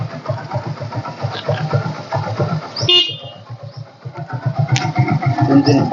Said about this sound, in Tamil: ரொம்ப சூப்பராக இருக்குது இன்ஜின்.